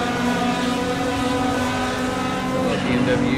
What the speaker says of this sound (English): that car sounds good